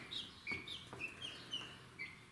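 A chicken on a small farm keeping guinea fowl gives a series of short, high, rhythmic clucks and chirps, about six calls over two seconds, faint and nearby with no talk.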